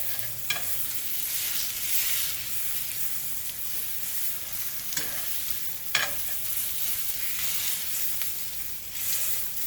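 Boneless strip steak sears in a hot pan with a steady, loud broadband sizzle throughout, broken by a few sharp crackles and pops as the meat is pressed flat against the surface.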